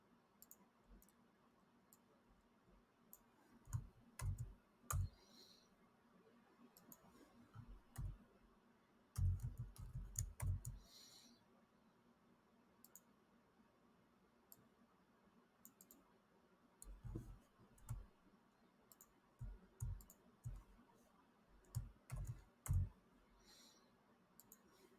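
Computer keyboard typing with bursts of quick clicking keystrokes in several short runs, separated by pauses, fairly faint and without talk.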